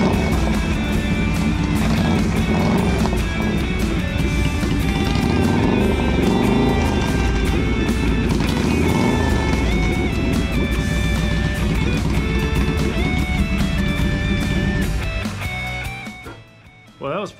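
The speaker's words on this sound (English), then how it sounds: "I'm gonna just let it run till all the gas is out of the carb." A Kawasaki Drifter motorcycle engine idles loud and steady close by, then sputters and fades out near the end as the carburetor runs out of fuel.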